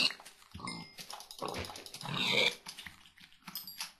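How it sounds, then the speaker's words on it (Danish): Pigs in the video game Minecraft let out a handful of short, close grunts and snorts, irregularly spaced over a few seconds with no talk. "jeg har lige fundet nogle grise"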